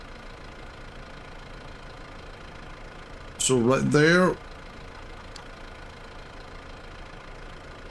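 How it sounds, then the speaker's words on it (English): A farm vehicle engine in a farming video game idles with a low, steady rumble throughout, while someone briefly speaks over it midway. "And we can turn off the engine"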